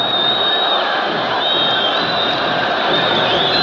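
Wydad and AS FAR football supporters fill a Casablanca stadium with a loud, steady roar of cheering and chanting, a dense crowd wash that never lets up, with whistles riding on top.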